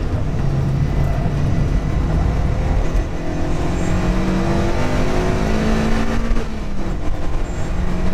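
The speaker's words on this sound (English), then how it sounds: "The first turn we downshifted into third gear, throttled through the apex, heel and toe down into second gear." Toyota 1ZZ-engined car on a track, engine note climbing under throttle then dropping through heel-and-toe downshifts into second gear, loud and continuous from inside the car with rising and falling harmonic sweeps.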